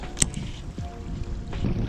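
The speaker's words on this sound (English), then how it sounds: "It is super windy out here on this little dam section." Steady wind rushing and buffeting the microphone outdoors on a dam, a continuous low roar with brief louder gusts.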